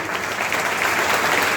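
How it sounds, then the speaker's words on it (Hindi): An audience at an award ceremony claps loudly in a dense, continuous wash of applause throughout the short stretch, with no pauses. "और जो तीसरी परीक्षा होनी है उसके लिए आपकी जोरदार तालियां होनी चाहिए,"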